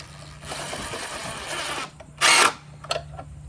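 A power drill drives stainless fasteners into a cabinet while a remote unit is installed. A long steady whir fills the first two seconds, then a brief louder burst follows, with a few short clicks after it.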